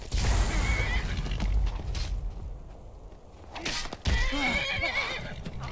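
A horse in the video game Skyrim whinnies loudly, then snorts and neighs again, with a faint creak and hoof clatter in between.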